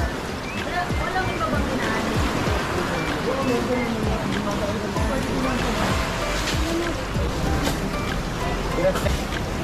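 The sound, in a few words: strong ocean waves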